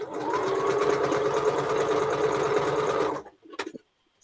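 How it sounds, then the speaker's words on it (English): A sewing machine stitches strips together for a Dancing Shoofly quilt block, a loud, steady mechanical whir running about three seconds before stopping, followed by a few small clicks. "That's what they'll become when you sew those strips together."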